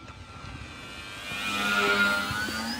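An E-flite Decathlon RC airplane, about 1.2 m span on a 4S battery, drones overhead with a steady buzzing motor whine that swells slightly louder as it passes, with no talk over it.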